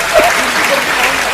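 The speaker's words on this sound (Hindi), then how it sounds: "पीछे के लोग नहीं तालियां बजा दो।" An audience at a Hindi poetry reading claps in a steady wash of applause, while a voice speaks over it.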